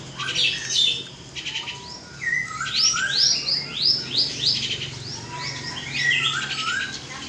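Many small songbirds chirp, tweet and squawk at a bird market, a dense overlapping chorus of bright calls close by over a low background hum, with no talking.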